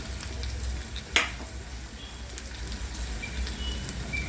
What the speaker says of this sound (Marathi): आता यामध्ये हे बटाटे टाकूया